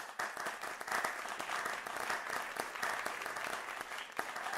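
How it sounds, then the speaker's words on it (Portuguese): Applause from a church Bible study gathering, a continuous patter of many hands clapping for over four seconds, fairly faint and distant, with no talking on top. "Pode aplaudir aí, eu vou aplaudir também aqui, porque eu gosto."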